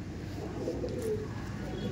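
Pigeons at a home loft coo softly in low, rolling murmurs beneath steady background noise, with a voice faintly present.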